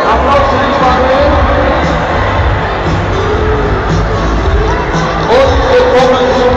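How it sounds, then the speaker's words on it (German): A large crowd at a live football match in Frankfurt gives off a loud, continuous roar of voices and cheering, with a few raised shouts rising above the steady hubbub. "Applaus für dich, Manuel."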